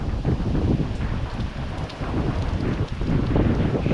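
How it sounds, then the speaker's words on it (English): Strong gusting wind from Hurricane Milton roars loudly around trees in a yard, a continuous buffeting rush with brief dips and surges, hitting the microphone hard, with no voices. "There's a gust."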